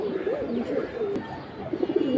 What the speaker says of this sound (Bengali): এটা এগ্রোর হ্যামার কবুতর।